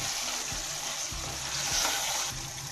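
Biryani masala with coriander frying and being stirred in a pan, a steady sizzle with a few soft scraping stirs at regular intervals, close up and alone.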